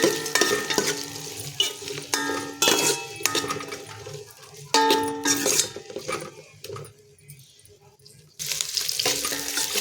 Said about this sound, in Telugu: ఇప్పుడు నూనె కాగింది, ఉల్లిగడ్డ, పచ్చిమిర్చి వేసుకుందాం.